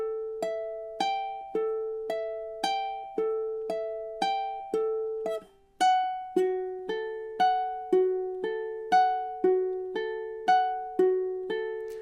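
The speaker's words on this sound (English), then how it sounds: "this is the really hard transition. Hardest part of the whole song, measures 8 into 9" A ukulele plays the slow, difficult transition from measure 8 into 9 of The Last of Us main theme: evenly paced plucked notes ringing close and clean, a brief gap midway, then the melody shifting lower and continuing alone.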